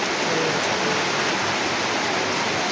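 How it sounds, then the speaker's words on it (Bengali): Steady rain falls in a dense, even hiss that stays constant throughout without pauses. "বৃষ্টি নামা শুরু হয়ে গেছে অলরেডি"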